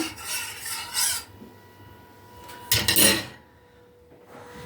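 Scraping, rasping strokes of a spoon stirring pudding in a pot of boiling milk, in two bursts with a quieter pause between, no talking.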